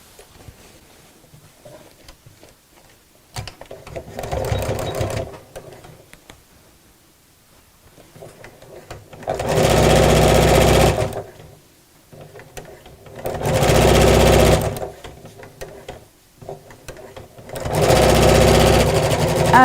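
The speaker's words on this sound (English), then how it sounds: "and then just sew down this edge" A sewing machine stitches down the edge of a craft bag in bursts. Several loud runs of fast, even needle clatter stop and start, with quiet pauses between them.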